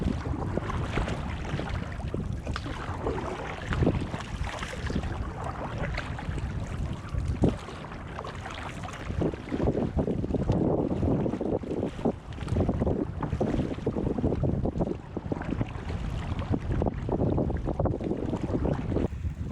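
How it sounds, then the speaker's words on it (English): Canoe paddling across a wind-swept lake on a wilderness trip in Quetico Provincial Park, with steady loud wind buffeting the microphone and water sloshing against the hull throughout, no talking. "We're going to try to paddle another 8K."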